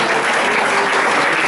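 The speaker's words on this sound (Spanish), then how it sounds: "Usted sí sabe por qué está aplaudiendo a Dios" Sustained dense clapping from a church congregation at an IPUC service in Arboleda, Caldas, loud and even with no pauses.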